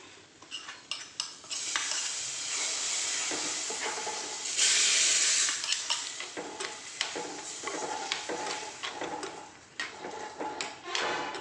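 Mushroom curry poured into a hot tempering pan and stirred, giving a sustained sizzling hiss with a loud burst of steam, plus repeated spoon scrapes and clinks against the pan, close up and with no talking.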